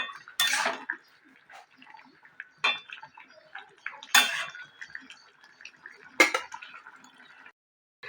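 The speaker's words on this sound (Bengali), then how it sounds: "একটু নাড়িয়ে দেবো।" A spoon stirs bottle gourd greens curry in a pan, giving four distinct metallic scrapes and clinks at irregular intervals, close and clear, with faint softer stirring between.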